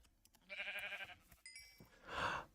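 A Minecraft sheep in the GregTech New Horizons modpack bleats twice, each call a brief wavering cry at moderate volume with small game sounds between.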